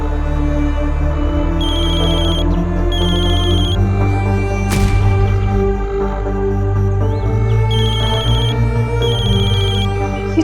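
A phone ringtone chimes in repeated electronic bursts over a sustained musical backdrop, loud and close, with a brief sharp sound in between.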